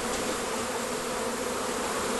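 A dense, steady buzzing of many honey bees at the hive fills the air continuously, close and loud, with no pauses.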